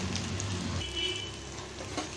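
Onion pakora batter frying in hot oil gives off a steady, close crackling sizzle with a dense, rain-like hiss and no one speaking.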